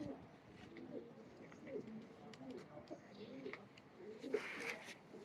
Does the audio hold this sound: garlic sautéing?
no